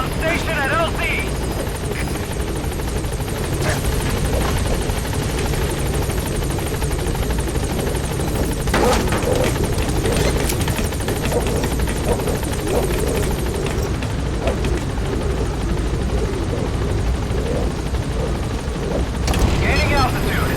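A helicopter in Metal Gear Solid 5 thunders loud and close as it comes in to a landing zone, its rotor roar steady throughout, with radio-style voices speaking over it and a few muffled booms.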